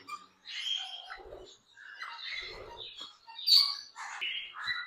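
Exotic pet birds chirp and squawk in a bird shop in Islamabad. The calls are scattered, fairly faint and come in short overlapping bursts.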